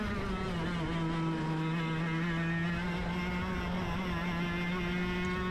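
A 100cc racing kart engine drones steadily at high revs on a race track, a loud, close, continuous buzzing whine with little change in pitch during a practice session.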